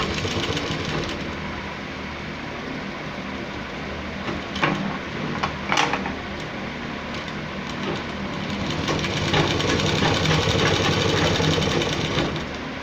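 A sewing machine runs steadily, stitching a button placket on a gents' kurta, with a continuous whirring drone and a few sharper clicks partway through. Nobody speaks over it.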